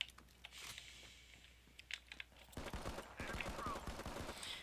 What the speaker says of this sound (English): Let's do a little pistol action.